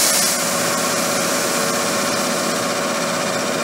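A machine cuts an aluminum forming die with a continuous, dense, hissing grind, loud and even across the whole stretch, with no speech.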